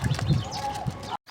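A sacrificial goat being walked through a neighbourhood gives one short, fairly close bleat over low rustling and handling noise.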